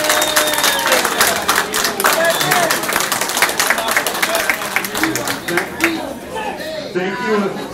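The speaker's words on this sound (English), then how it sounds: "How about the drivers give all these workers that were out here in the foul weather a big round of applause" Drivers at an awards ceremony at Thunderhill raceway give the track workers a round of applause, steady dense clapping from a sizeable crowd with chatter and cheers mixed in, lasting several seconds.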